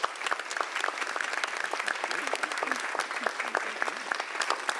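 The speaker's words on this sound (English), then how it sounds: "Please give our witnesses an applause." Audience applauding the witnesses at the close of a Religious Liberty Commission hearing, dense continuous clapping from a sizable room with sharp individual claps standing out throughout.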